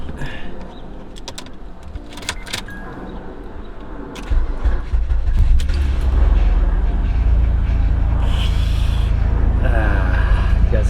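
An Acura TL, the Nighthawk Black Pearl model, with a known engine whine, starts up partway through: a low rumbling idle settles in and holds steadily, heard from inside the car, with pigeons cooing and a passing airplane in the background.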